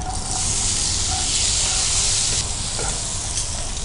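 Brinjal pieces dropped into a hot pan for a moong dal fry give a loud, steady frying sizzle and hiss that runs unbroken for about four seconds, with no talking.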